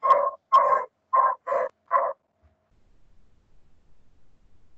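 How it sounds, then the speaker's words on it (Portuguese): Five sharp barks from a dog in quick succession, fairly close, then silence with only faint low rumbles. "tem um cachorro aí latindo."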